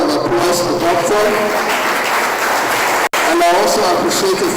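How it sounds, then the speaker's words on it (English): Audience at a science and technology induction ceremony breaks into sustained applause, dense steady clapping with a brief cut partway through and some voices mixed in. "Please, another round of applause for Doctor."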